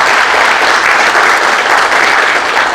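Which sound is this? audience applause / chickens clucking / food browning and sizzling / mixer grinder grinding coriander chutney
audience applause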